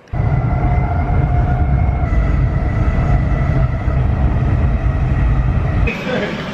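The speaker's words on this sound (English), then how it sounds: "I can see my train just pulling in now" A train pulling into a station rumbles steadily with a deep, continuous low drone and some metallic hum, then the noise drops off abruptly near the end.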